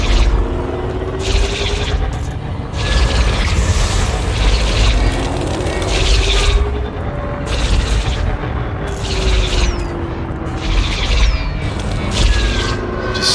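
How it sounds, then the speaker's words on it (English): Caustic missile strike in a video game: heavy rumbling booms and crackling blasts roll through a continuous loud battle din, with repeated surges and a few whooshing sweeps over the roar. "With a caustic missile incoming."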